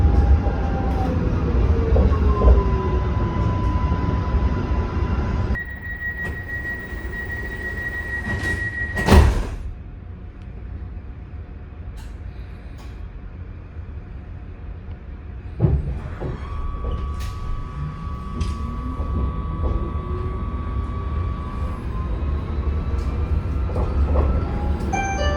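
Sydney light rail ride aboard an Alstom Citadis 305 tram: steady low rumble of the car in motion, a door chime and sliding doors at a stop, then whining traction motors as the tram pulls away again.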